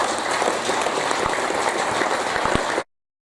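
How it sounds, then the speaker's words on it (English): Sustained, evenly dense applause from an audience at the 2019 STATSports Super Cup NI youth football tournament draw, filling the room for under three seconds before cutting off abruptly. "Give Victor a huge round of applause"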